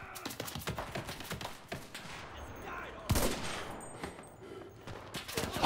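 Rapid bursts of gunfire from a WWII first-person shooter, with dense overlapping automatic shots and scattered single rifle cracks in a chaotic battle mix; a loud crack or explosion lands midway, and shots continue steadily to the end.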